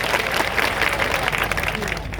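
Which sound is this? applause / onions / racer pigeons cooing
applause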